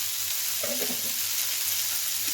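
Tomatoes frying in a pan for tomato chutney give a steady, soft sizzle with a brief stirring scrape partway through, alone and with no talk.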